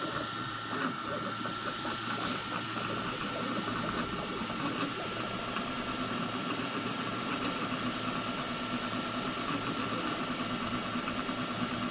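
A Zero G Mercury 3D printer fitted with 5015 cooling fans runs with a low, even hum and fan whir, quiet and constant throughout, with no voices.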